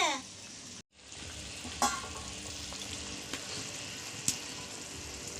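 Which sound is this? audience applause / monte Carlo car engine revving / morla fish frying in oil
morla fish frying in oil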